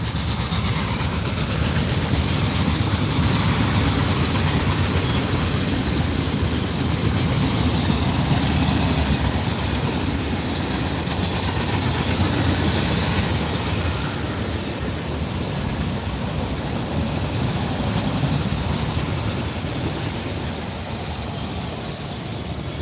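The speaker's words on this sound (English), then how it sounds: "This is a noisy train." A noisy CSX freight train passes in a continuous loud rumbling roar with rattling wheels, steady and close throughout with no voices.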